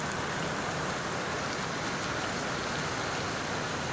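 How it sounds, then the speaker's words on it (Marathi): Heavy monsoon rain pours down in Virar, a dense, continuous hiss of drops beating on surfaces, steady and unbroken with no voices. "मुसळधार पाऊस पडतो आहे हे बघा हा आमच्या विरारचा पाऊस आहे"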